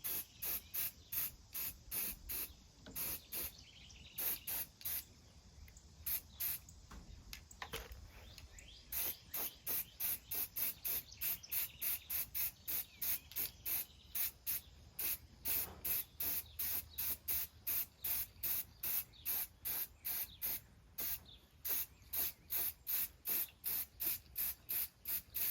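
Fluorescent paint is spray-painted onto catfish rods in a long series of short, hissing aerosol bursts. The bursts come close together in a quick, steady rhythm, loud and near, with the can rattling between sprays and no talking.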